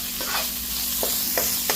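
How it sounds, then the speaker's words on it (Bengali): Noodles frying with salt in a pan, a steady sizzle with a few light scrapes of stirring at irregular moments. "তাই আমি একটু ভেজে নিই একটু"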